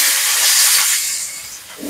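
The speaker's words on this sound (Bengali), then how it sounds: "আলু দিয়ে দিচ্ছি।" Potatoes dropped into hot oil seasoned with cumin, giving a loud, close, broad sizzling hiss that fades gradually over two seconds.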